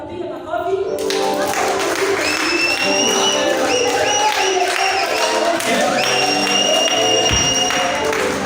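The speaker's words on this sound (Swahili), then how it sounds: "Wacha tukapige makofi." A church congregation claps hands together in a sustained, loud, dense round of applause with some cheering and a melodic tone running above it.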